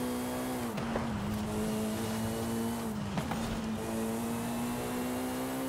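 A Jaguar C-X75 supercar accelerating in a racing game: a steady, loud engine drone climbs in pitch, dips sharply at two gear shifts, then climbs again, heard close and continuous.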